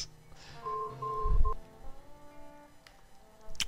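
In a game, an old mobile phone tucked in pants rings with a brief electronic tone pattern, followed by a low thump, then quiet faint clicks.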